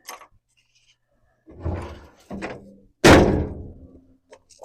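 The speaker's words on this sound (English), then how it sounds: "Make some room up here to close this tailgate." Tailgate of a 1981 Datsun 720 pickup being handled and shut: a few soft metallic thuds and rattles, then one loud, close slam that rings out briefly before quiet returns.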